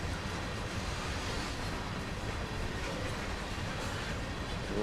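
A CSX GP38-2 diesel locomotive rumbles steadily along the track in Train Sim World on the NEC New York line, with a continuous low engine drone and faint wheel clatter at an even, unbroken level.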